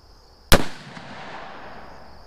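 A single sharp, loud rifle shot from a Savage Axis 2 Precision bolt-action rifle at a shooting range, followed by a short fading echo.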